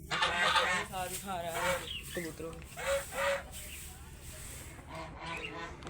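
Chickens and roosters cluck and squawk loudly and close by, kept among pigeons, a lamb and ducks, their calls coming in repeated noisy bursts while a person speaks among them.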